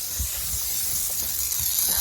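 A lawn irrigation sprinkler sprays water with a steady close hiss, faint rhythmic ticking pulses underneath, and no voices.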